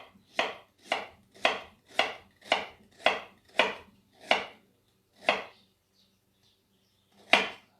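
A kitchen knife chopping onion on a cutting board, eight crisp, evenly spaced thuds, then a pause and one more single chop, close and clean against a quiet room.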